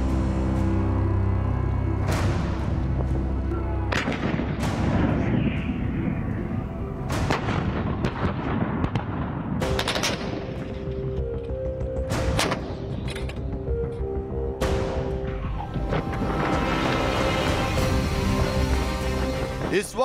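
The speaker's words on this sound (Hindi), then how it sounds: "105 फील्ड गन से लगातार गोलाबारी कर साबित कर दिया" 105 mm field gun artillery firing repeatedly during a regimental exercise, heavy booming blasts every few seconds with rumbling echoes, heard loud and near over outdoor noise.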